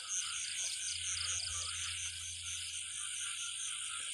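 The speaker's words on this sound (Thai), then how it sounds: "เสียงจิ้งหรีด" At night behind a house, crickets keep up a steady, rapid high-pitched trill, with faint frog calls in the background and no one talking.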